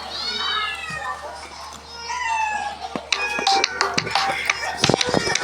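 Cat meows played back from a Cat AI video ring out loudly beside a running FNAF 6 game, a few drawn-out wavering calls followed by sharp clicks and clatter.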